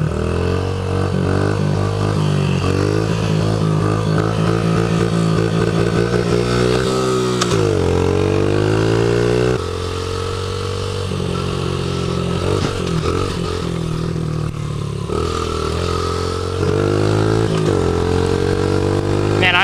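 A Honda CRF50 dirt bike rides on public roads, its small engine revving loudly and continuously, with gear changes and rising and falling pitch sweeps.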